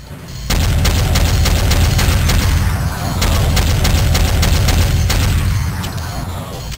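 Rapid volleys of heavy gunfire from a first-person shooter weapon in Doom 2, loud repeated blasts in two bursts that fade toward the end, with no talking.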